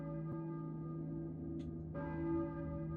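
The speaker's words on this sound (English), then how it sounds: "I hear a church bell," A church bell tolls in the Silent Hill video game, a single clear strike rising over a steady low droning ambience, fairly quiet and distant-sounding with no voices.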